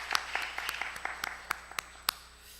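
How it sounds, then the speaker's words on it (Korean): A small church congregation at a Sunday morning service claps in a few sparse, separate strikes, about a dozen distinct hand claps spread across a quiet room rather than a full ovation. "하나님께 영광의 박수를 올려드리겠습니다."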